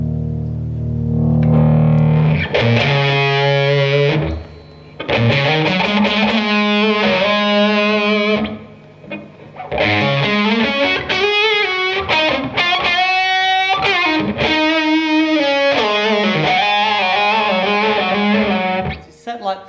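Distorted, gritty, almost fuzzy Fender Telecaster through a LazyJ Cruiser overdrive pedal into a LazyJ J20 amp plays chords and short riffs, loud and saturated, with brief pauses between phrases.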